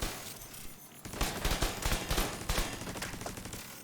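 Rapid bursts of automatic turret gunfire in the shooter game The Division 2, a quiet lead-in followed by loud clustered volleys of sharp shots that keep rattling on.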